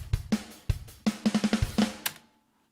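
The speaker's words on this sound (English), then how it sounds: "there's an additional snare, which is layered to the standard snare. And together they sound like this" Layered snare drum samples from the Hugo kit in a drum plugin, struck alone in a short pattern of about nine dry, punchy hits with tight ringing bodies, interleaved with a few kick thumps and ending on a bright crash-like hit.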